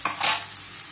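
Fenugreek leaves frying with gram flour in a pan for a spicy methi pitla, giving a short burst of stirring and sizzle that settles into a steady soft frying hiss, close by with no talk.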